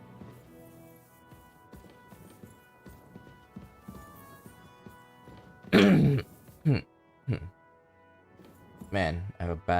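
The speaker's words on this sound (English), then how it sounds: "Man, I have a bad cough." A character in Kingdom Come: Deliverance II coughs and clears his throat in a few loud, harsh bursts amid quieter game ambience, with a hoarse cough returning near the end.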